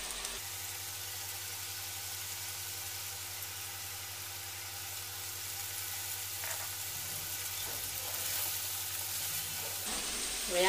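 Soaked rice dropped into a hot pan for fried rice sizzles steadily and strongly, with a few stirring scrapes over a constant low hum from the stove. Near the end the sound shifts briefly.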